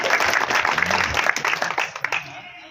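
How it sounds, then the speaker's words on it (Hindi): Audience applause at a political rally in Bhind, a dense crowd clapping for a couple of seconds before thinning out and fading, with some murmured voices mixed in. "आप लोगों के लिए भी ताली बनती है"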